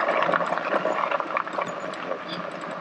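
Goose Creek runs alongside a bike trail in a steady, close, broadband wash of flowing water that stays even throughout with no talk over it.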